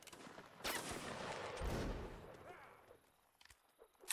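Musket volleys in the online battle game Mount & Blade: Napoleonic Wars, a couple of sharp cracks and a rolling burst of gunfire with crowd noise, moderately distant and muffled beneath faint background ambience.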